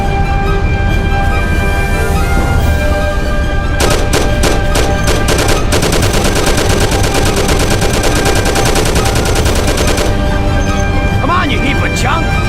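Rapid bursts of Thompson submachine gun fire and other shots in Mafia 2, loud and dense over a steady din of in-game background sound, with a sustained volley in the middle stretch.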